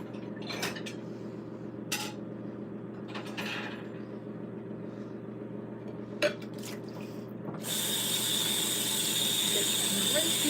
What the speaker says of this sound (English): Rinse action going on. Rinsing and rinsing.